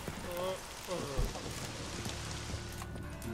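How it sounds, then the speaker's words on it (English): Rain falls steadily in The Witcher 3, a soft even patter spread across the scene, with brief game sounds and faint voice-like tones mixed in early on. "Looks like rain."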